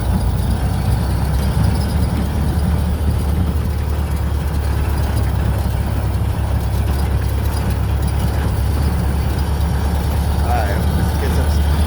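A Model A rat rod's engine runs steadily with a deep, continuous low rumble, loud and close throughout, while people talk over it.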